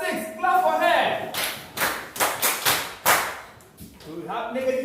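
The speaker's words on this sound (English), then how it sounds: "Clap for her." A school math class claps for a student, a short burst of several sharp group claps in a rhythmic run, with the teacher's voice before and after.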